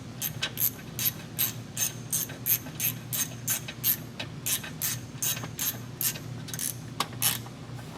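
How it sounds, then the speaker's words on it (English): Socket wrench ratcheting on a 2015 Toyota Highlander transmission filter, a rapid run of crisp metallic clicks in quick repeated bursts, close and clear with no talking. "And then you can finish it with a socket."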